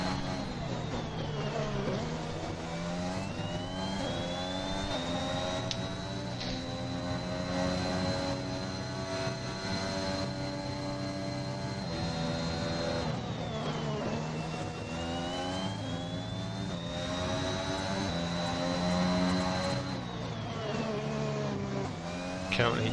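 AlphaTauri Formula 1 car on a qualifying lap in a racing video game at a Russia round, its high engine whine rising and falling through gear changes and corners, steady and continuous.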